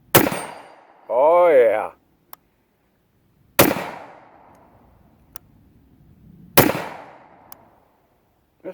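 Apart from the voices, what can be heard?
Jericho 941 pistol shots hitting small steel targets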